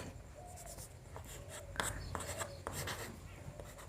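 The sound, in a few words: writing by hand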